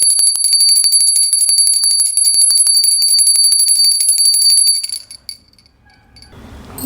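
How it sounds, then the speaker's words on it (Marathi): A small puja hand bell rings rapidly and continuously during a Margashirsha Thursday worship, bright metallic tone for about five seconds, then stops, leaving quiet rustling. "घंटा आणि अगरबत्तीने देवीला ओवाळून घ्यायचं आहे"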